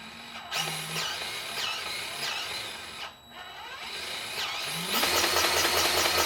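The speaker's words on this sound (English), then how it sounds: "you heard how you can control the speed of that grease gun" A DeWalt 20V cordless grease gun motor whirs in short bursts as its variable speed trigger is squeezed, the pitch rising and falling, then runs at a steady higher speed near the end, close and loud.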